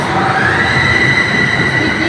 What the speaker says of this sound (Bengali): এখন এটা একটা ইলেকট্রিক ট্রেন এটা ম্যাট্রিস মেট্রো ট্রেন না